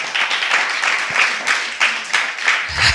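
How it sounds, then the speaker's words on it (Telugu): Congregation at a church purification gathering clapping loudly together, a steady dense patter of many hands with slight rhythmic swells, sustained for the whole stretch. "గట్టిగా చప్పట్లు కొడుతూ ప్రభు నామాన్ని మహిమపరచండి"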